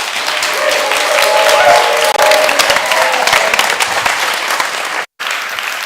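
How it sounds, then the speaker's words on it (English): Audience at a humanitarian innovation pitch event breaking into loud, sustained applause with some cheering, dense clapping filling the room and cutting out briefly near the end. "I want to hear like the best applause you can offer."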